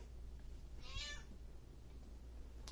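A house cat gives one clear meow over a steady low hum in a quiet room, with a faint click near the end.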